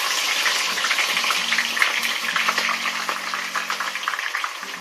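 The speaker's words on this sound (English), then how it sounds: "now I'm going to add my onions and my garlic and let it fry up" Onions and garlic sizzling in a pan, a steady, fairly loud hiss and crackle that stays even throughout with no talking over it.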